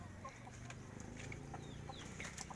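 Backyard chickens cluck softly and intermittently at a low level, scattered short calls over a quiet background.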